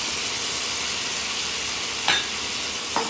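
Fried potato and cauliflower sizzle steadily in a pan as they are stirred into a vegetarian curry, a constant hissing fry with a couple of faint scraping clinks from the spoon.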